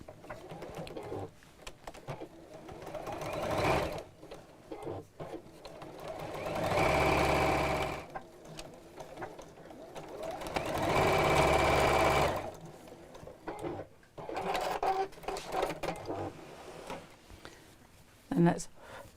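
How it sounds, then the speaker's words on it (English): A sewing machine stitches around the edge of a rattan-handled bag in several close, steady bursts of rapid whirring. Someone talks in the gaps between the bursts. "I'll sew all around the edge as I did previously"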